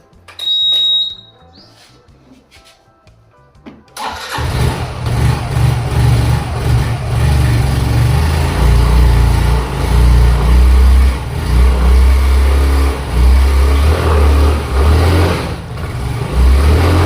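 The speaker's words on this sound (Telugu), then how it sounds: "now let's fit back battery into hour scooty and try to start it" A scooter's engine, just refitted with a freshly recharged battery, starts after a quiet stretch with a short electronic beep, then catches and runs loud and close with revving.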